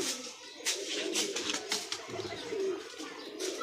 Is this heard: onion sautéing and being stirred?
no